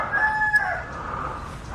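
A rooster crows once in the cool season near the Mekong in Mukdahan, in Thailand's Isan region, with a loud, fairly close call that trails off into outdoor background noise.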